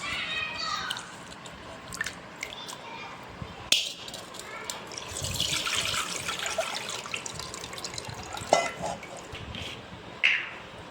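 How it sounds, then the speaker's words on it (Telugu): Sago pearls being washed in water by hand, with splashing and swishing, intermittent drips and pours, a few sharper clinks of the vessel, and quiet voices in the background. "బాగా కడిగి నీళ్ళు ఉంపేయాలి ఫ్రెండ్స్"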